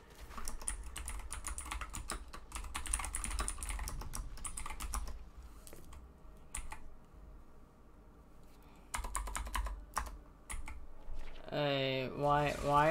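A computer keyboard typing during a Diablo 4 gaming session, with quick bursts of close, sharp key clicks separated by pauses and a voice speaking near the end.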